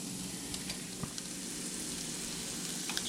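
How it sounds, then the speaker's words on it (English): Thin pond bass fillets, blackened, searing in a hot pan: a continuous, even sizzle with faint pops and ticks, fairly quiet and without any voices. "Then just drop your stuff in there, guys. We'll get a really hard sear on that."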